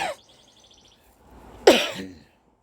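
A single short cough sounds close by after a brief faint chirp and a quiet pause, with nothing else following.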